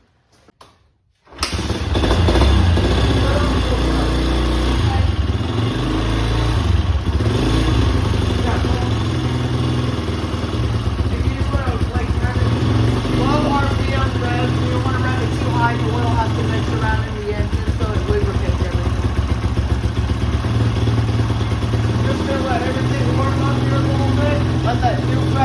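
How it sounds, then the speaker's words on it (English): A Honda CRF150F trail bike, freshly serviced with new oil, fires up and settles into a steady, loud engine run that holds without a break, close by. "we're gonna start up this great 150 trail bike"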